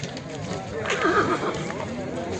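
A horse at a livestock market in Sokuluk near Bishkek lets out a clear neigh midway, a quavering whinny rising over crowd chatter and nearby talk, with faint hoof clops in the background.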